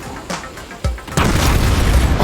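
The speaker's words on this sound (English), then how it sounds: "Oh god, explosions everywhere." Explosions in the zombie video game Dying Light: The Beast: a few sharp booms and pops early on, then a loud, sustained rumbling roar of blasts and debris filling the rest of the moment.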